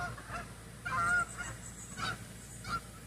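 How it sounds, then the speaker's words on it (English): Several geese honk outside an open window in short bursts, with one louder call near the middle and fainter ones after it, moderately distant. "Well, there's the geese. They're coming back."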